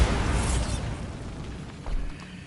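Bombarda blasting spell exploding in Hogwarts Legacy, a loud rumbling blast that starts at full strength and slowly fades, with a smaller boom near the end.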